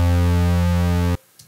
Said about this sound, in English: a note from a synthesizer here that sounds like this